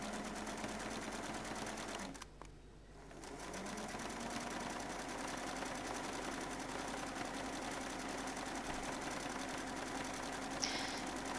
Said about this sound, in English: I use a slight zigzag to give it some give.